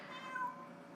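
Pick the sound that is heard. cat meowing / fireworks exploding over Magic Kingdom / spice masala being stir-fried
cat meowing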